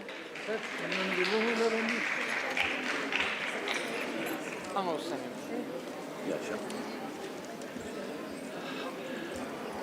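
A seated audience claps to welcome a speaker to the stage at a Pravaasi Telangana Diwas gathering in an auditorium, a dense, loud burst of applause that holds for several seconds beneath overlapping speech.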